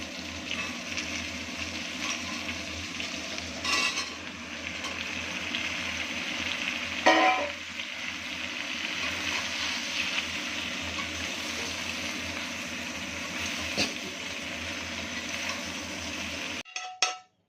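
Chopped bottle gourd frying in a pan with tempered spices, dried red chilli and bay leaf, giving a steady close sizzle with occasional stirring clinks, ending in a few utensil knocks.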